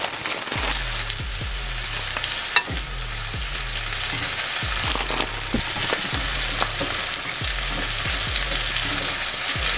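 Spinach sautéing in butter in a hot pan, a bright continuous sizzle with repeated rhythmic stirring scrapes and taps every second or so, close and fairly loud with no talking.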